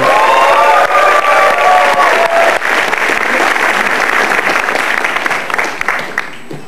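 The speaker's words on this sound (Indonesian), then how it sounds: "boleh tepuk tangan untuk Cak Lontong" A stand-up comedy audience bursts into loud, sustained applause and cheering to welcome the comedian onto the stage, with some shouts and whistles early on and the clapping holding steady throughout.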